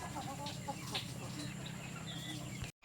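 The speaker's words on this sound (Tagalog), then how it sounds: "Mga Huluano yan, mga Bisaya na manok." Visayan native chickens clucking on a farm at night, soft scattered calls over a steady low rumble, with a faint rooster-like note and no talk.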